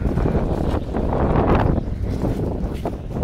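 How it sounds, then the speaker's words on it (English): Strong wind buffets the microphone in a steady, loud roar with gusty surges, no speech heard. "it's very windy"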